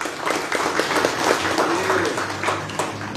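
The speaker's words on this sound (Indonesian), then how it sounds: "Tepuk tangan bagi Buya Mukhlis." Audience applause for a Quran teacher at an Islamic talk show, a dense, steady wash of clapping that holds evenly for a few seconds with no voices over it.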